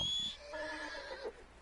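A short, faint horse whinny in the video game Red Dead Redemption 2, with a shrill rising start and quavering fall, brief and somewhat distant.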